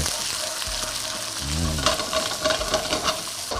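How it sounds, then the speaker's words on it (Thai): Green curry paste stir-fries in hot rendered pork fat, a loud close sizzle broken by the scraping and clatter of a spatula moving through the pan. "ผัดให้หอมนะครับ กับน้ำมันหมูของเราที่เราเจียวออกมาเมื่อกี้"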